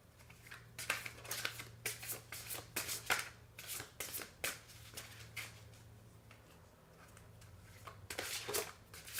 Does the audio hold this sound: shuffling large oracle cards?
yes